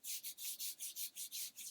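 Hands rhythmically rub down an arm during a massage, about eight soft brushing strokes in quick, steady succession, close and clear with no talking.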